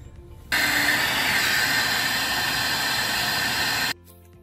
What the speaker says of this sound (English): So I'm gonna hit this with a sander